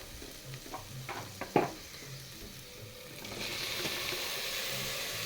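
Tomatoes go into a frying pan and are stirred for tomato rice: several knocks and clatters, then a loud, steady sizzle that swells and holds close by.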